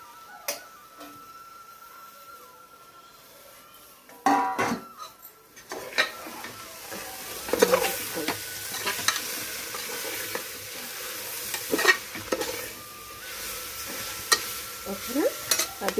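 Moringa leaves dropped into a pan and stirred as they fry, quiet at first, then repeated close scraping and clattering strokes over a soft sizzle, with no talking.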